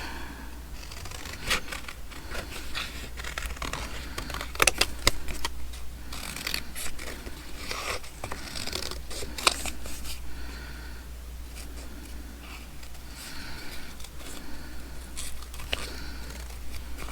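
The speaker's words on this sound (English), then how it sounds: "So now we can cut this out a little neater." Scissors snip and rustle through paper while making Halloween ephemera, a steady run of small crisp cuts and crinkles, fairly faint against a constant low hum.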